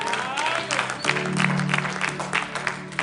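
Church congregation clapping and cheering for Jesus, a dense continuous wash of applause with crowd voices and a sustained tone underneath, fairly close and steady throughout.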